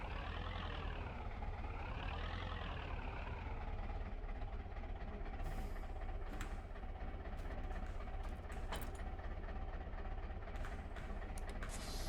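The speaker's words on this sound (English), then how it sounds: "let's go ahead and grab our tractor" A tractor engine drones steadily in Farming Simulator 22, a continuous low rumble with a wavering pitch early on, joined by scattered clicks and clunks later.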